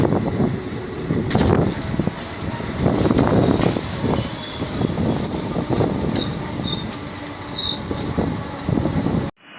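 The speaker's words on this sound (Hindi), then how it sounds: "गाइस 2 नंबर नहीं 3 नंबर पे हमारी ट्रेन आई है" An express train arriving at Katwa Junction railway platform at night, a loud close rumble of railcars rolling past with squealing wheels and brake hiss, ending abruptly.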